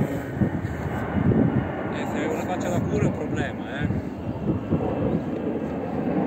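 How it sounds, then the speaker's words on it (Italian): Airplanes fly in a virtual reality video game, a steady broad engine roar and drone running throughout while people talk loudly over it. "Ma nella realtà virtuale abbiamo inserito anche gli aerei?"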